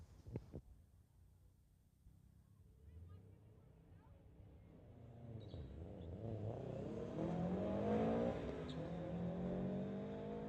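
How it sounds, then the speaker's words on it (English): A Subaru and a 2017 BMW launch side by side down a drag strip at a street-legal racing event. The engines start low and distant, then build into a rising, revving roar that grows louder toward the end. "Subaru in the spectator lane going against Timmy in the 2017 BMW."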